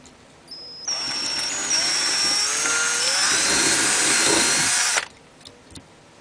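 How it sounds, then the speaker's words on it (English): A power drill spins up close and runs loudly and steadily for about four seconds boring out silicone, its pitch wavering slightly under load, then stops. "I'm just going to quickly drill that silicone out."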